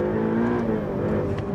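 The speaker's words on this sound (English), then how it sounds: "You can hear the turbo spool." A turbocharged Ferrari F8 Tributo engine hums with a dense, steady drone and a faint rising whine running through it. The sound is close and continuous for a brief moment, with no talk over it.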